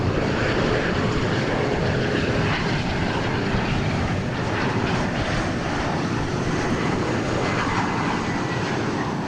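An airliner at DFW Airport, the Aspen flight, gives off a continuous broad engine roar, steady and fairly loud across the whole stretch with no voices.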